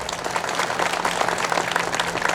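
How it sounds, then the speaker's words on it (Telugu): Dense, loud applause fills the hall at a Hindu Sammelanam gathering during Dr. Naina Jaiswal's Telugu speech, the crowd clapping hard and continuously without a break. "సో ఒకసారి గట్టిగా చప్పట్లు."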